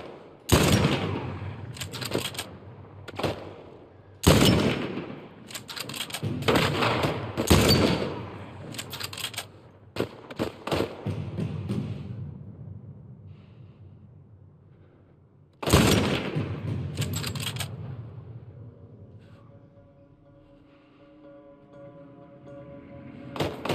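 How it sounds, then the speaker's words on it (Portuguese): Gunfire in the video game The Last of Us Part 1 remake, scattered bursts of shots and heavy thuds, some rapid volleys and single loud reports with ringing decays and quieter gaps between. "Onde eles estão atirando?"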